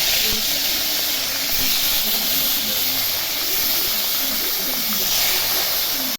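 Rohu fish pieces rubbed with salt and turmeric drop into hot oil in a kadai and sizzle loudly, a close, continuous hiss and crackle that holds steady throughout before cutting off abruptly.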